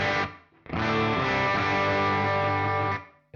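A distorted electric guitar played through a Quad Cortex amp model with the reverb mix turned up: a short chord, a brief gap, then a sustained ringing chord with a lush, washing tail.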